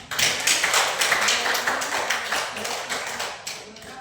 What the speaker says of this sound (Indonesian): Aplaus dulu untuk Gina.